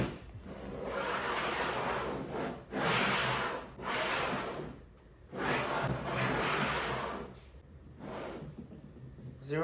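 A cross-cut sled with freshly applied paste wax slides back and forth over a table saw top, producing repeated smooth rubbing swooshes in a steady rhythm, close and fairly loud, with short pauses between strokes.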